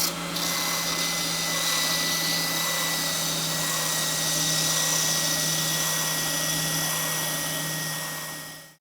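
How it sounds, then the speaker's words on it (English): A spindle sander shapes the horn of a guitar body, giving one continuous whirring grind with a steady motor hum that runs unbroken and close, then cuts off at the end. "Now we can go back to the spindle sander and finalize this shape right here"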